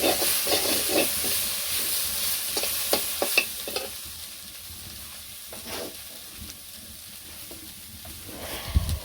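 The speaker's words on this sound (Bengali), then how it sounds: "এখন এই যে জিয়া মাছগুলো ওই কড়াইতে ভাজবো" Stinging catfish fry in a wok in a village kitchen, a steady sizzle and hiss with clanking stirring strokes early on and a sharp knock at the end; no talk.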